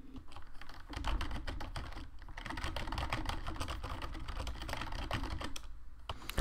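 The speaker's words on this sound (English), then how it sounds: "If you guys hear the new keyboard, which I believe you can, because it's actually pretty loud" Fast, continuous typing on a fairly loud new computer keyboard, dense clacking keystrokes close to the microphone with no pauses, while a Roblox game is being played.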